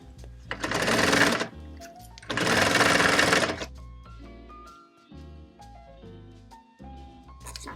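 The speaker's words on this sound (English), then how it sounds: "You want to sew through the zipper, and that's what's going to help close off the zipper." A sewing machine stitching through a zipper on a zipper pocket, two loud sustained bursts of rapid needle clatter separated by a pause, followed by quieter handling and fabric shuffling.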